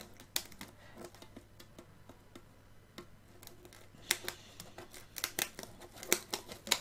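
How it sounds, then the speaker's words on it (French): Scissors cut into plastic packaging for a Pokémon card box, giving sparse, small snips and crinkly ticks at first and then a denser run of sharp cuts toward the end, all close and quiet. "On fait une entaille dans le plastique."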